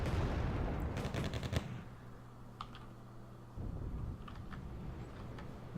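Rapid bursts of heavy gunfire from a Turon 5 in a strategy video game, sharp stuttering volleys at a modest level over a steady low engine hum, with scattered distant shots later.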